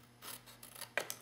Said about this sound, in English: I'm just going to take my scissors and I'm going to just cut that out